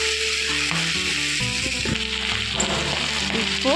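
Vegetables sautéing in a pan for masala semiya, a steady close sizzle with soft stirring scrapes, set against tonal background music.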